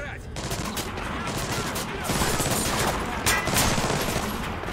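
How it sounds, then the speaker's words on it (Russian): Gunfire rings out inside a terminal in the video game Splinter Cell Blacklist, a dense, continuous burst of shots and clatter running the whole stretch, fairly loud and steady with a few sharper cracks near the end. "Внутри терминала слышна стрельба, Сэм."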